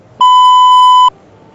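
A single loud, pure censor beep tone lasts just under a second, cutting in sharply and stopping abruptly, with quiet background noise on either side.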